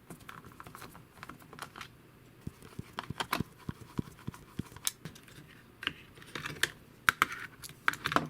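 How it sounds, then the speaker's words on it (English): Screws being undone from underneath the chassis of a Tamiya TT01 E RC car: a series of light, sharp clicks and small metallic taps, scattered and close, with no talking. "go underneath the chassis and undo the two screws that are holding this in place"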